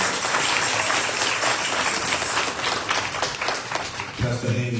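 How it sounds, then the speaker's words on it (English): A congregation at a funeral service applauds a pastor, a steady dense wash of clapping heard close and loud, holding level throughout with a voice briefly audible near the end. "Please join me and giving Pastor Marcus Haynes a round of applause at this time."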